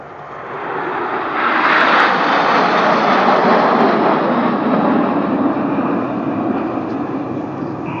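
Red Arrows jets flying in close formation at about 400 mph, producing a loud, sustained broadband roar that swells in the first two seconds and then holds steady, with no voices.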